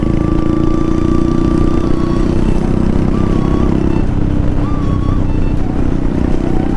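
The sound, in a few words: Royal Enfield Hunter 350 motorcycle engine while riding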